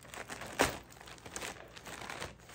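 Scissors cutting open a plastic-wrapped parcel, a dull blade needing several cuts: quiet continuous crinkling and rustling of packaging, with one sharper snip or crunch standing out near the start.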